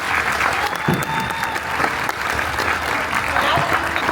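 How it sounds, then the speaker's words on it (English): A crowd gives a sustained, dense round of applause for athletes at a high school national signing day, steady and loud throughout with a voice briefly audible underneath. "give a big round of applause to each and every one of these athletes"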